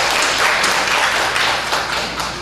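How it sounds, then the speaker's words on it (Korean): Korean church congregation clapping to welcome a new member at a worship service, a continuous, full-room burst of applause heard up close and fairly loud. "큰 박수로 환영하겠습니다."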